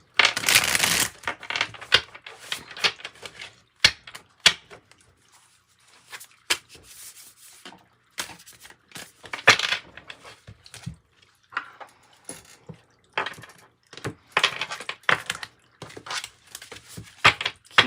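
Tarot cards being shuffled close up in repeated bursts of papery riffling and sliding, separated by brief pauses and soft handling taps.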